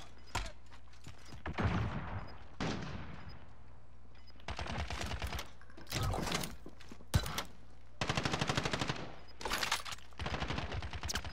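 Gunfire in a shooter video game arrives in rapid bursts and single shots, some distant and echoing, others close and crackling, separated by brief quieter gaps across the stretch.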